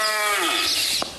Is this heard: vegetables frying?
no